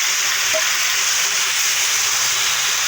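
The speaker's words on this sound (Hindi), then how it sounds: "इसलिए मैं इसमें ही मैं टमाटर फ्राई करूँगी" Tomatoes frying in hot oil in a kadai give off a loud, steady sizzling hiss, close and continuous, with a faint clink early on and no talk.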